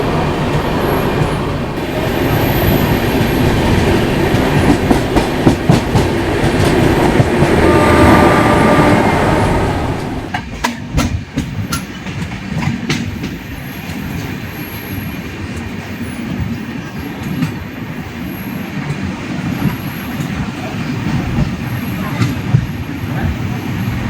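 The Garib Rath Express from Chennai to Hazrat Nizamuddin overtakes the Lucknow Express near Ongole in India: a loud, close rumble of rolling rail wagons with rhythmic wheel clatter, metallic squeals and rushing passing noise.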